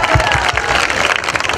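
Loud, dense applause from an audience at a live show, steady clapping that fills the whole moment with crowd noise underneath.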